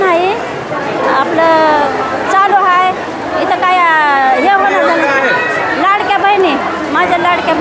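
Dense crowd chatter fills a government service office in Latur, with many overlapping voices, women and small children among them, steady and close throughout as people wait in line for scheme registration.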